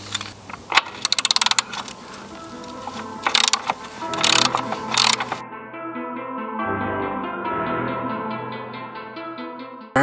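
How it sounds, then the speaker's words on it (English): Metallic clicks, clinks and ratcheting from a wrench working on a bolt on a DRZ400SM motorcycle during an oil change, a run of quick close clatters giving way to a steadier mechanical whir and hum. "I'm going to loosen this bolt right here."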